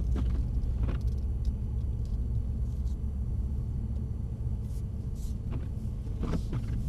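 A Mercedes-AMG C63 driven on a track in Sport Plus mode, heard from inside the cabin as a steady, heavy low engine and road rumble at an even level, with no talking.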